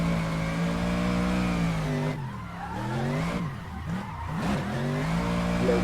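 An Aussie Drift Co BMW M3 drift car in Assetto Corsa holds a steady, loud engine drone, then dips and surges as a clutch kick lands, with the pitch swooping down and back up while tyres skid and squeal.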